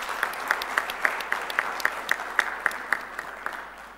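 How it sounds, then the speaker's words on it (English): Applause for panelists at an HR round table in Hyderabad, heard as fairly quiet, regular distinct claps at a steady rhythm, close to a single clapper's pace, over a soft room background. "in appreciating their contribution by a big round of applause"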